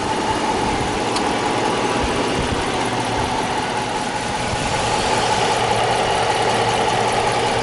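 A 2015 Jeep Grand Cherokee Overland with its 5.7-liter V8 Hemi idles in a steady, even drone, heard close and constant with no talking.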